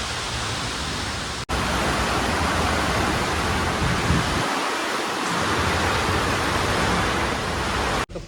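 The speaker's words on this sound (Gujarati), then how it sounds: "વરસાદ ચાલુ થઈ ગયો" Heavy rain pours down in a steady, loud, broadband hiss that fills nearly the whole stretch, with a brief drop near the start and another at the end; no voices are heard.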